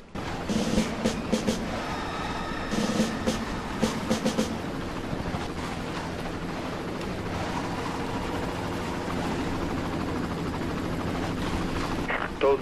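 A helicopter in the 2004 PC shooter Far Cry, a continuous broad rotor and engine roar mixed with rushing water-like noise, steady and loud throughout.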